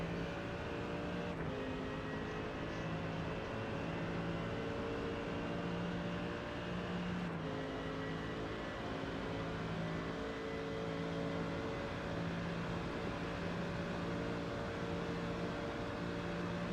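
Sports race cars accelerate up through the gears on the Daytona oval in a racing video game, a continuous engine drone with rising tones and a couple of quick gear-shift breaks, fairly quiet and without voices.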